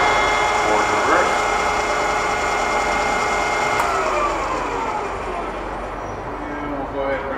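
A used Doall D5100R radial drilling machine runs at low speed with a steady mechanical hum and whirring gear noise, slowly winding down in pitch, while a person speaks over it.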